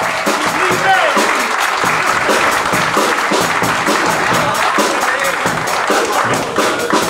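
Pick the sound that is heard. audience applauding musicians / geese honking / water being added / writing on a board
audience applauding musicians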